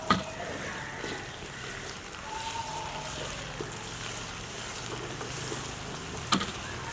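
Ginger garlic paste fries in a karahi with golden-browned onions, a soft continuous sizzle with occasional stirring clinks and scrapes, quiet and close with no talking.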